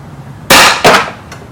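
A MadBull Defender CO2 shotgun firing 10.8mm rubber balls at a box target 50 feet away: two sharp, loud bursts in quick succession, followed by a faint distant tap.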